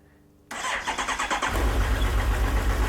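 A Suzuki GSX1250FA motorcycle with a weak battery cranks with a quick series of labored starter pulses, then the engine catches and settles into a loud, steady rumbling idle close by.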